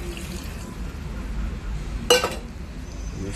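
Water poured into a pot of beans seasoned with onion, garlic and parsley, heard as one brief splashing burst near the middle against a quiet, steady background.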